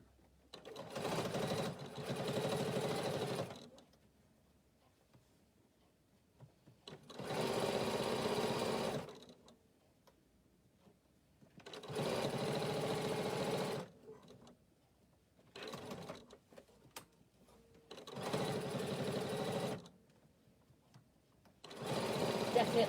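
Domestic sewing machine fitted with a leather needle, running in about six bursts of rapid mechanical stitching a few seconds each, separated by quiet pauses with faint handling sounds.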